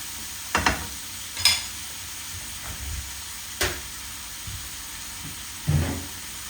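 Ground beef and pork stir-fried in a pan with green onions: a steady low sizzle with occasional scraping stirs, moderately faint, with no talking.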